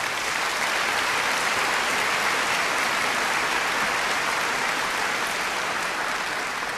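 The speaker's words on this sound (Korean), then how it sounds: "나오실 때 박수로 크게 환영하십니다" Audience at a church mission gathering applauding to welcome a pastor onto the stage: dense, sustained clapping from a large crowd, even and loud for the whole stretch.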